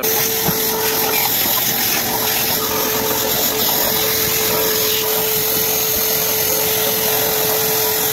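A DeWalt 9 gallon wet/dry shop vacuum runs continuously, a loud, steady whooshing roar with a constant high motor whine and no change or voices throughout.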